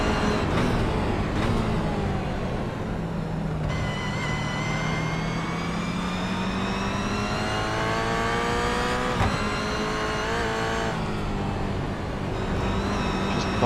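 Onboard a Toyota 86 race car lapping Brands Hatch, the engine drones loudly and steadily, its pitch climbing through the gears and dropping under braking, with rising and falling harmonic sweeps throughout.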